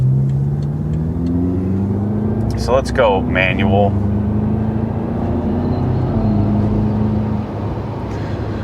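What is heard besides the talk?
BMW F10 M5 engine accelerating on highway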